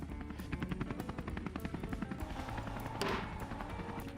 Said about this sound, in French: Ça alors, c'est un vrai hélicoptère.